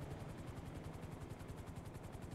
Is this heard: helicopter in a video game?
yes